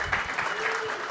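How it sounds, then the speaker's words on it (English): Audience applause at a live comedy show during an independent comedy festival in Brisbane, a steady dense clapping that fills the room with a few swelling bursts. "big round of applause"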